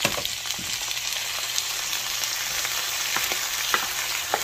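Peas and pork sizzle together in a hot frying pan for a Mexican dish with dried chiles, a steady close crackle with occasional louder pops and stirring scrapes, no voices.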